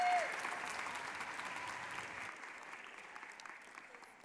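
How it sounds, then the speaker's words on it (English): An audience at a Limerick event gives a round of applause, a broad wash of clapping that is loudest at the start and gradually fades away. "can we give a big round of applause to James?"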